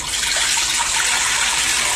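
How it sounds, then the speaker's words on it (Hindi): Water pouring steadily into an open cooking pot, a continuous loud splashing gush filling the pot for boiling macaroni, with no speech over it. "एक खुले बर्तन में पानी ले लें"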